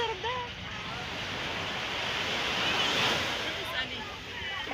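Sea waves washing in at a beach in Alexandria, a steady roar of surf with wind buffeting the microphone, while voices talk faintly through it.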